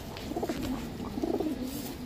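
Pigeons coo in soft, low throaty bursts, several repeated calls close by over a quiet background hum, from a Chuithal pigeon hen of an old short-beaked breed.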